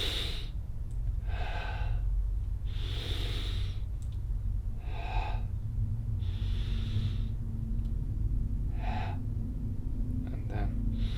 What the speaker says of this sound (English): So yeah, I just breathe.